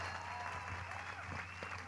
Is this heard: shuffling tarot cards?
no